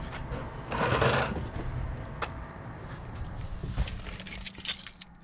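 A bunch of car keys for a 2017 Ford Focus RS jangles close by in a soft metallic burst, followed by lighter clinks and rustling near the end. There is no talking.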